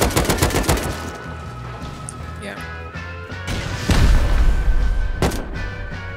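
Rockets and gunfire in the survival game Rust come as a cluster of sharp rapid shots, then two heavy booming impacts later on, loud and close, with voices talking over the noise.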